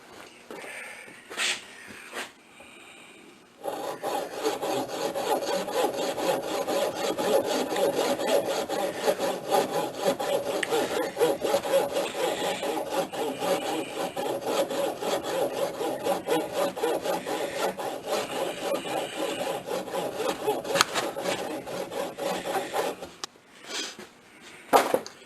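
Prying and scraping epoxy off a Tecumseh ESKA ignition module, a continuous close rasping scrape that runs for about twenty seconds, bracketed by brief quieter clicks at the start and end.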